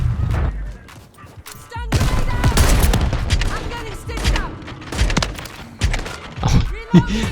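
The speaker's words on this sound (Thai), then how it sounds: "ต่างคนต่างยิงไม่โดน" Gunfire from the Reclaimer 18 shotgun in Call of Duty Warzone III, with loud repeated blasts and thuds in irregular bursts among other game effects, and a voice speaking now and then.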